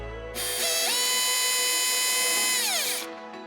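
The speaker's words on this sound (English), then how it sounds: "I'm going to create some small little drill dimples using the bottom half of the clamp as my guide" A power drill whirs up to a high, steady whine, holds for a couple of seconds, then winds down while drilling small dimples into a kayak bar; a single short burst, close and loud.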